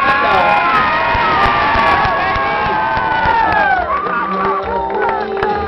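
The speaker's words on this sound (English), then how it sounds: "how about a big round of applause for Jerica?" An audience cheers, whoops and shouts at a Samoan festival fashion show, a loud excited crowd roar with high voices rising above steady background babble.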